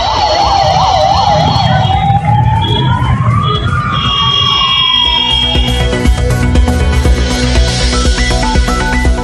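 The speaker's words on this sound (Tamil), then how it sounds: "OMR சாலையில் வாகன நெரிசலில் சிக்கிக்கொண்ட ஆம்புலன்ஸ்." An ambulance siren wails, sweeping up and down, then holds a steadier tone while the ambulance is stuck in a traffic jam on OMR road, over constant loud traffic rumble and engine noise.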